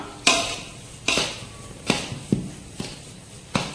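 Spices for sambar powder being mixed in a metal vessel, giving a series of sharp clinking knocks, about seven spaced strikes at an uneven rhythm, close and fairly loud with no talking.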